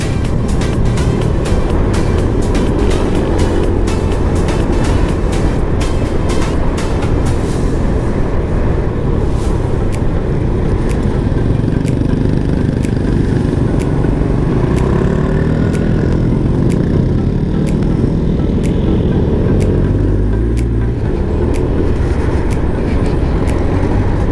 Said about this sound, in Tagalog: Medyo traffic talaga dito guys